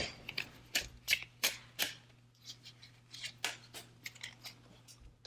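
Tarot cards being shuffled by hand, a series of quick papery riffles and slaps in irregular bursts, close and fairly quiet with no talking.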